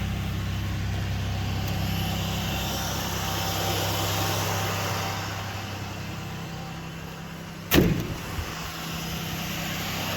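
A 2003 Chevrolet Malibu engine idles after O2 sensor and exhaust work, a steady low hum with a smooth, even drone and one brief sharp knock near the end.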